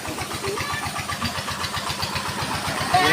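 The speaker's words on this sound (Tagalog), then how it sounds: "Ayun, makina ang patubig." Irrigation water pump engine chugging steadily in a rice field, a fast regular mechanical pulse that stays loud and close throughout with no talk over it.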